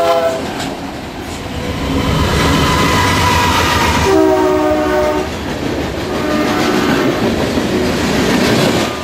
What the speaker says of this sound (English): symbol freight BUIN heads west with its train of general merchandise